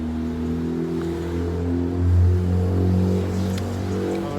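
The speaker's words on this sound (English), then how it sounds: "This engine sound over here started going off when I started walking" A car engine idles steadily some distance away, a continuous low hum with a slight swell in the middle, heard outdoors with no talking.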